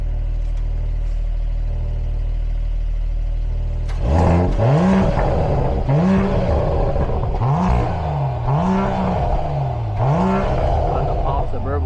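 A Mercedes GLE 53 AMG inline-six turbo engine starts after a few seconds of low idle hum, then revs repeatedly in rising and falling sweeps, loud and close.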